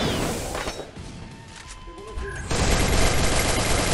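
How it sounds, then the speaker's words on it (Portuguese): Rapid bursts of gunfire in the mobile battle royale game Free Fire, with a dense volley that grows louder and fills the second half, heard close and continuous. "Um tiro, um tiro, um tiro."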